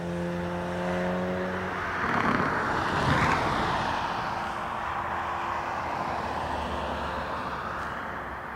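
A loud motorcycle roars past near Dublin Airport, its engine noise swelling to a peak midway and then fading slightly, over steady roadway background noise.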